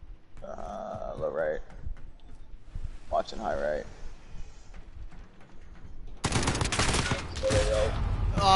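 Burst-weapon gunfire in a Call of Duty match erupts loud and dense near the end, following a stretch of voices and quieter in-game activity.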